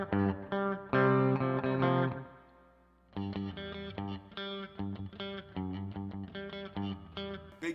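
A Fender Professional II Telecaster electric guitar plays through distortion: a few ringing chord hits, then a sustained chord fades out, followed by a choppy, rhythmic riff of short palm-muted stabs.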